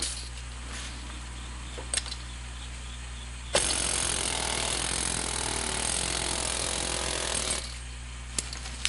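An air-powered hammer tool rattles hard for about four seconds while separating a tie rod ball joint on a Saturn S-Series, loud and close, with quieter workshop ambience and a couple of clanks before and after.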